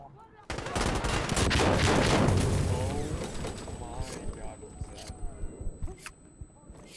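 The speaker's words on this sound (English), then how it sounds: "The kick on the Tommy gun is just like insane." Tommy gun bursts in the game Insurgency Sandstorm, dense loud automatic fire for several seconds, then sparser sharp shots and clicks with voices talking over the action.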